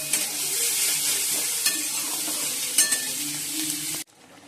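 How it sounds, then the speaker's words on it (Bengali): Onions frying in a little oil in a pan, a loud continuous sizzle close by with a few stirring scrapes, ending abruptly after about four seconds. "পেঁয়াজটা একটু ভেজে নিই, তেল অল্পই দিয়েছি"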